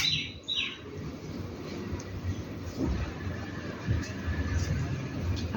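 Birds chirp and call softly in the morning open air, scattered faint tweets over a steady low background hum with no talking.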